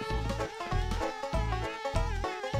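Bees buzz in the video game Conker: Bad Fur Day, a rhythmic, pulsing harmonic drone that swells and fades in quick repeated waves with no talking.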